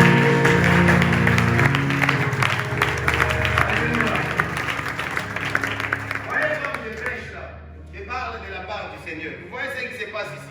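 A church congregation claps and cheers loudly for several seconds, the applause thinning out toward the end while a voice carries over it.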